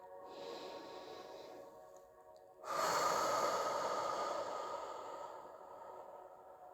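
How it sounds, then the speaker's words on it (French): A slow, deep breath drawn in, then a long, forceful exhale that swells suddenly and fades gradually, close and alone with no talk. "vous prendrez une lente et profonde inspiration et vous soufflerez très fort"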